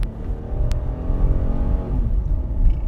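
A Toyota Crown S150 with a non-turbo 2JZ engine and automatic transmission accelerates hard, its engine note rising in a loud, steady climb heard from inside the car.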